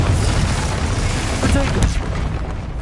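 A Confringo fire spell bursts in Hogwarts Legacy combat, a loud, close explosive boom inside a dense, rumbling wash of battle noise lasting a few seconds.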